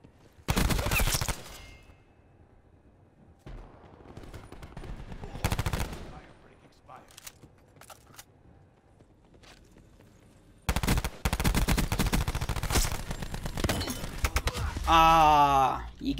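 Bursts of rapid automatic gunfire in a shooter game, loud and close, come in several separate volleys with quieter stretches between them, and someone talks in the lulls.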